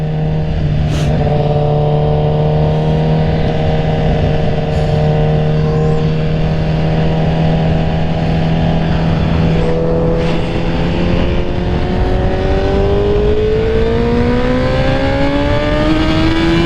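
A Honda CBR1000RR sport bike roars loudly and steadily under way, its engine note climbing and falling through the gears with continuous wind rush and no talking.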